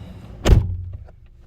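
A single solid thump as the driver's door of a 2014 Nissan Sentra S swings shut, close and loud, followed by a brief fading rattle inside the cabin.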